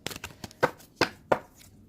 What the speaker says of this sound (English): Give me a moment to shuffle